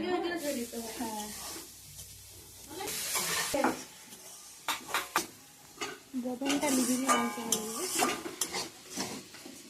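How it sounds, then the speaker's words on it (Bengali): Rice fries and sizzles in a pan while a utensil scrapes and clatters against the metal in uneven strokes, with voices talking over the cooking throughout. "চালটাকে একটু লাল লাল ভাজা"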